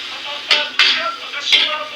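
Meat is stirred in a cooking pot, with three sharp metallic scrapes and clanks of a utensil against the pot in quick succession over a low background hum.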